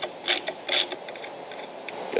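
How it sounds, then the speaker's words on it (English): A 9/16 driver backs off the fan nut on a Concept 2 rowing machine, giving two quick ratcheting bursts near the start followed by lighter mechanical clicks and rattles, close and fairly loud. "The only thing you need is a 9/16 driver. You'll just be able to back this off"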